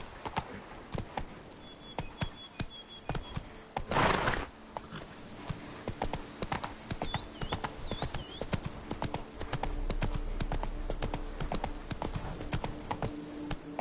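Roach the horse trots in The Witcher 3: Wild Hunt, Blood and Wine, hooves clip-clopping in a steady close rhythm, with a brief snort or whinny partway through and faint ambient game sounds.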